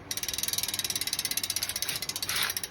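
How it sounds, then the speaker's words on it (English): A Shimano bicycle freewheel ratchet on a Yoeleo R11 clicks rapidly and evenly as the wheel coasts, a close, steady buzz of tiny mechanical ticks with nothing else audible. "the sound of that freewheel"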